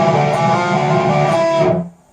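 Electric guitar rings out with unmuted strings, a dense, harmonically rich sustained chord wash with string noise for nearly two seconds before cutting off abruptly.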